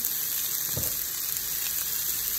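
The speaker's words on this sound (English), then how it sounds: "we're just going to saute this until they become nice and tender" Food sautés in a pan for a mango jerk beef dish, a steady close hiss of sizzling with a brief soft stir or scrape.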